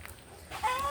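A chicken at a hen coop gives a brief, fairly close call that rises out of quiet rural background noise partway through, with a few drawn-out tonal notes.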